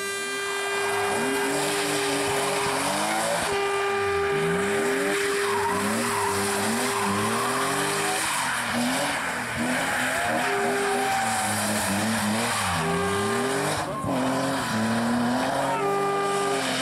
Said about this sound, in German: auf einem BMW E36 328i